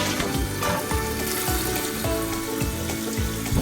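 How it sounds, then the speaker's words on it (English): Water rushing into a toilet tank after a fill valve repair, a loud, steady hiss and gurgle with rhythmic low surges, close to the microphone and without voices. "After the tank is filled, we're going to flush it and see if it works."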